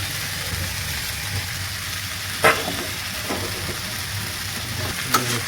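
Small chuno fish sizzle in a pan with garlic cloves and onion stalks, a steady close crackling fry broken by a couple of sharp clinks of stirring.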